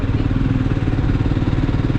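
A motorcycle riding up the hill road from Kotagiri toward Doddabetta Peak near Ooty, giving a loud, steady engine drone mixed with wind rush, close and continuous throughout.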